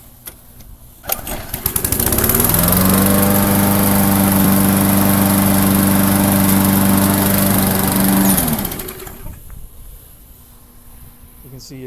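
A Briggs and Stratton lawnmower engine fitted with multiple carburetor springs starts up and runs loud and steady at a fairly low, even speed for about six seconds, then winds down and stops.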